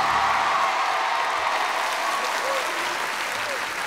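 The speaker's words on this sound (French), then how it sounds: "Est-ce qu'on peut faire du bruit s'il vous plaît pour lui, pour Justin?" A TV studio audience claps steadily and fairly loudly on a children's singing talent show, a continuous wash of applause lasting a few seconds with faint voices underneath.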